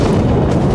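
A car exploding in the video game Generation Zero, a loud, dense, sustained rumbling blast filling the whole moment, close and overwhelming.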